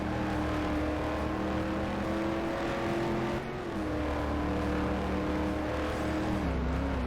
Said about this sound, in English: We're in a race car. It's on the hot lap.